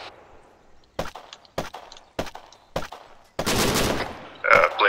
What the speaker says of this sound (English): We're being fired from southwest.